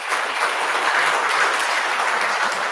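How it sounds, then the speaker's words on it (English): Audience applause following a keynote address and Q&A at a university undergraduate research awards event, dense steady clapping from a crowd, loud and sustained without talk. "So one final round of applause for Samantha."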